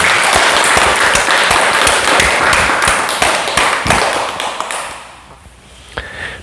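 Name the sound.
audience applause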